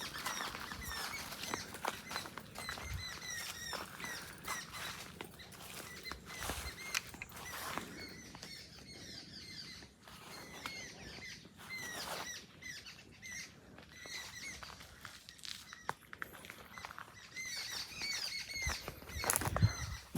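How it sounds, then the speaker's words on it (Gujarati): Sparrows chirp near a dam at night, faint scattered tweets against a quiet outdoor background, with soft patters and rustles coming and going. "બસ ખાલી ચકલીઓનો અવાજ આવે છે."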